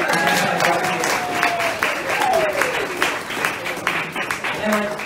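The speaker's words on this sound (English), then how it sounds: "Can we give a big round of applause to the team for the early years?" Audience at a same-sex marriage postal survey reflections event claps for the team, a moderate, sustained round of applause with some voices mixed in beneath it.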